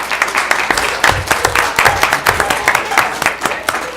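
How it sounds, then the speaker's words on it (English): An audience at a live event applauds for the person running the Facebook live stream, a dense wash of hand claps with some voices mixed in. "So give him a big round of applause."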